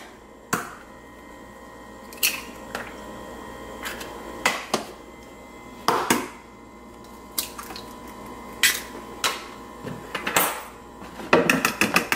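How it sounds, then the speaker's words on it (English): Two eggs beaten in a bowl, heard as spaced clinks and taps of utensil on the bowl that quicken into a rapid clatter toward the end, close and clear with no talk. "We're gonna go ahead and beat 2 eggs."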